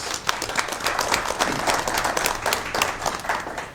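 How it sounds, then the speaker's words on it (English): An audience at a school board meeting applauds students, a dense, steady burst of many hands clapping close by, sustained at even loudness throughout with no talking. "Let's give them a round of applause."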